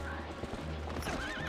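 A horse in the GameCube version of Zelda: Twilight Princess clops along and gives a whinnying neigh, close and loud, under game sounds and music with no talking.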